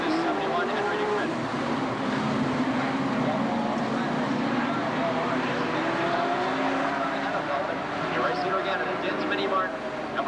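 Sportsman stock cars race around an oval track at a 1990 EWSCA feature, a continuous roar of engines with cars droning past under a steady commentary voice.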